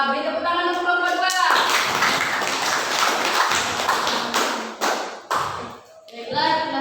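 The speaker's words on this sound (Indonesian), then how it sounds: "Beri tepuk tangan untuk kelompok 2." Classroom audience applause for a student group after their presentation: several seconds of dense, close clapping, with speech just before and after.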